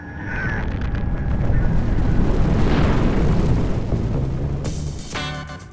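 Atomic test detonation at Amchitka Island: a sustained loud, rumbling roar builds and holds for several seconds, with a broad boom swelling in the middle and a harsher crackling burst near the end.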